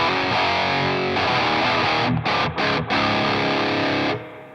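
Heavily distorted electric guitar power chords through a Naomi Crunch Distortion pedal ring out loud and sustained, with a few brief choked gaps between strums before the final chord fades.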